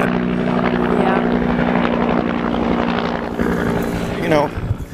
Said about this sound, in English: I think that helicopter overhead's gonna find us before we find the cache.